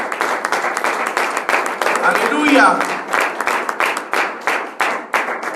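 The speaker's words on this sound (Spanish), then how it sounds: "Alguien le puede dar un fuerte aplauso al Señor" A congregation claps together during a Spanish-language church sermon, a steady, dense patter of many hands that keeps going throughout, with a voice calling out over the applause.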